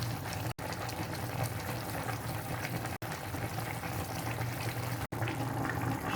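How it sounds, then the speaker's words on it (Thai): A pot of Thai vegetable soup (tom chap chai) bubbles at a steady, continuous boil, a dense low rumble with faint sizzle, broken by a few brief gaps. "เราก็จะต้มต่อไปประมาณ 30 นาทีนะคะ"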